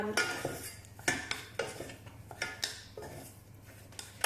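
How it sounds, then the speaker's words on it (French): A spatula beats choux pastry dough of flour, butter and boiled liquid in a pot, off the heat, making regular scraping, knocking strokes against the pot about twice a second, close and steady with no talking. "Donc on mélange bien pour dessécher la pâte, environ 2 minutes."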